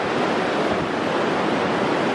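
Gentle ocean waves wash steadily onto a shell-strewn beach, a continuous soft surf roar with light wind noise on the microphone, close and even throughout with no voices.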